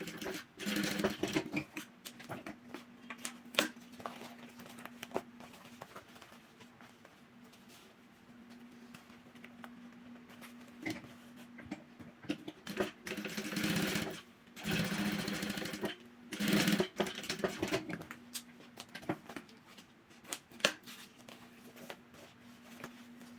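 A sewing machine runs in steady bursts, stitching a finishing seam with bias binding along a synthetic necessaire box, pausing briefly between runs, with a faint voice at times.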